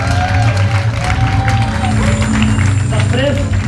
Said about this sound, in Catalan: Un aplaudiment per ells, collons!